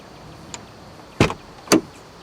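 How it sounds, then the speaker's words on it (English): Door of a 1991 Mercedes-Benz 420 SEL being worked, two solid clunks of the latch and handle about half a second apart after a faint click, close and heavy against a quiet background. "One of the first features you'll notice is this nice heavy feel of the door."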